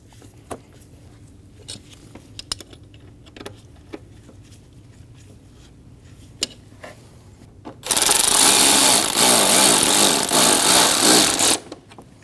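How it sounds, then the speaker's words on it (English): A power tool buzzes loudly for a few seconds, driving intake manifold bolts on a Volkswagen Passat, after quiet clicks and light metallic taps of bolts being lined up and started. "Snug the bolts down in a cross pattern."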